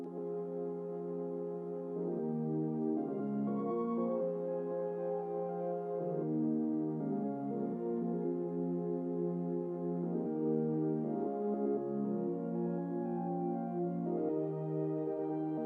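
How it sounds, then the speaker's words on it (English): Simple synth pop chords built in FL Studio, moving up and down in a steady rhythmic pattern, played alone, full and sustained with no voices. "first thing I added was just these simple like pop chords that sort of go up and down and just have that nice rhythm"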